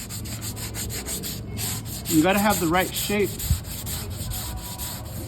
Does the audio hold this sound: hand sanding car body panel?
yes